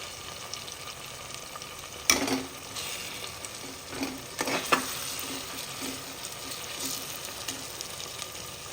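Chopped tomatoes for a Bengali-style mutton curry sizzle softly over a lowered flame as they cook down in a pan, with a few sharper scrapes of a spoon stirring through the steady frying hiss.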